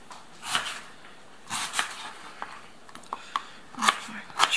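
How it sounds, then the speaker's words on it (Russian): Knife chopping quartered onion on a cutting board, heard as a handful of short, crisp strokes in irregular clusters with quiet gaps between them, close by. "Вот так по одной четвертинке крошим ее."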